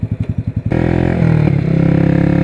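A motorcycle idles with a steady, rhythmic thump, then the throttle opens into a loud, sustained engine drone close by while the ride gets underway, with no speech.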